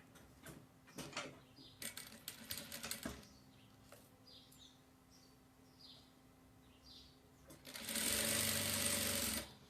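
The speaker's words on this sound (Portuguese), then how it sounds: "Essa lateral que eu tô costurando, não é necessário nem overlocar" A sewing machine stitches the side seam of a boy's diaper-cover overalls in short, quick bursts of rapid mechanical chatter. A longer, louder continuous run comes near the end, with light handling noises between bursts.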